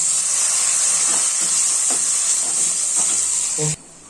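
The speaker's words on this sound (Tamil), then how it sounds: "இப்போ நல்லா வெங்காயம் வதங்கிடுச்சு. இதுல நம்ம கருவேப்பிலையும் சேர்த்துட்டு இதை நல்லா மிக்ஸ் பண்ணி விட்டு" Onions and curry leaves sizzle steadily in a hot pan with a constant bright hiss, while a spoon stirs in soft scraping clicks, and the sizzle cuts off abruptly near the end.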